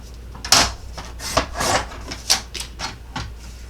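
A card mat is trimmed to size with a paper cutter for a handmade Valentine card, giving a series of short, close scraping slides and soft taps with brief pauses between strokes.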